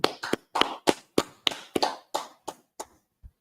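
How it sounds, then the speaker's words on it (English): About eleven sharp claps ring out in a slow, slightly uneven rhythm, close and crisp, each followed by a brief echo, with the final clap softer and more spaced out. "Let's clap it up."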